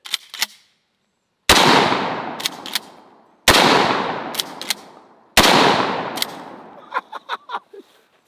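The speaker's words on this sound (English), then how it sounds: "Now I'm really curious to see what would happen if I hit it with a few rounds of 12 gauge." Winchester Model 1912 12-gauge shotgun loaded with double-aught buckshot fires three loud, close blasts at a bulletproof backpack plate, each spaced more than a second apart and followed by a ringing decay and small clattering sounds.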